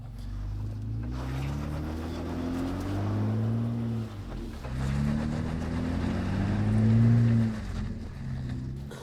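An engine of a lifted Jeep growls low while the vehicle crawls slowly over rocks off road, its pitch rising and falling with gentle throttle changes, close and steady without speech.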